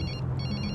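A telephone ringing in a Bollywood suspense thriller scene, a brief bright repeated electronic ring heard alone over a low hum.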